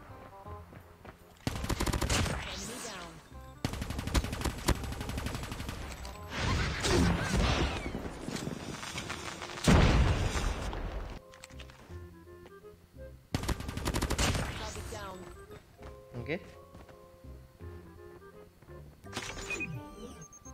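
SMG fire in a PUBG-style battle royale shooter: several loud, rapid bursts of automatic gunfire with clattering impacts, separated by short pauses and quieter game ambience.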